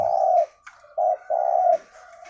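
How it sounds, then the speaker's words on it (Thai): A spotted dove, a young four-to-five-month-old bird, coos close by in clear, mellow, low notes: one longer call, a short pause, then two more coos in quick succession, with no voices. "นกมันขันทั้งวันแล้วมันเป็นนกปากเบาครับ ขันทั้งวัน เรียกทั้งวัน"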